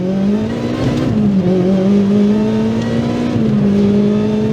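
A supercharged K24 engine in a DC5 Integra Type R accelerates hard, a loud, steady droning rasp from inside the car that climbs in pitch, dips briefly at a shift, then climbs again.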